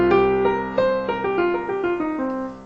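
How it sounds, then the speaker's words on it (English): A minor pentatonic scale is played note by note on a plucked, ringing instrument: about eight distinct notes in a steady sequence, each sustaining into the next, clear and alone with no talking. "This is what a lot of people call the minor pentatonic."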